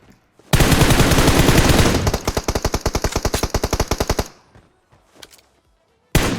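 Intense, close automatic gunfire in a video game: a long continuous burst followed by rapid evenly spaced shots lasting nearly four seconds, then quiet with a few faint noises and a final sharp blast.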